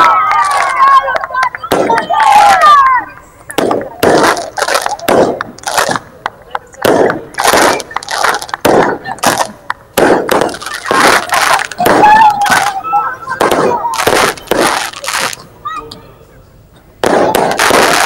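Fireworks burst at a Christmas tree celebration in Thrapsano, Greece, right after a countdown: a rapid run of loud, close, sharp cracks and bangs, some in clusters, with brief gaps and a voice speaking between and under them.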